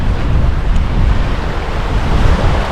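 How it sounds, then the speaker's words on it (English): Strong wind buffets the microphone on a beach at Cayo Coco, Cuba, with waves rolling in behind: a loud, continuous roar of gusts and surf with no voices. "I'm just trying to get out of the wind right now,"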